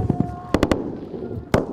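Gunfire in combat footage outside a village, heard as a few sharp, loud cracks in two short clusters over a low, noisy background.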